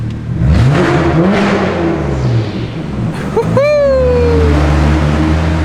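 A straight-piped BMW 335i revs hard under a bridge, its loud raspy exhaust rising and falling in two big sweeps, then a sharp whistling rise as the engine climbs before settling to a rumbling idle.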